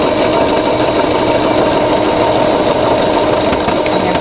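A sewing machine stitches a seam with a back stitch, running as a steady close mechanical whir with a rapid rhythmic needle patter, continuous and alone with no talk.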